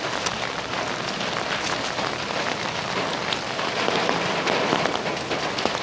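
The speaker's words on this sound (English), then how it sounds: "if it ever stops raining" Steady rain pours at a Florida campground with a pavilion picnic area, a dense, continuous hiss of drops on surfaces that swells slightly toward the end, with no voices.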